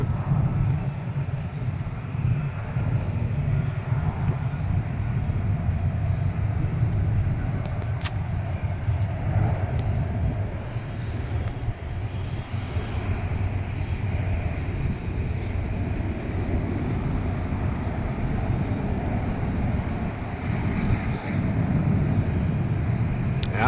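Airplane rolling down the runway at Cleveland airport, a steady broad roar of engine noise that holds evenly throughout at a moderate distance, with no talking.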